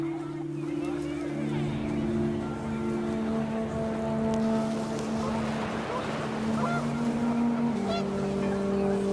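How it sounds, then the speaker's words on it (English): Panicked geese honk amid rising wind in the video game What Remains of Edith Finch, with steady tonal horn-like calls over a continuous windy rush, fairly loud throughout. "The wind picked up, and panicked geese appeared and quickly went."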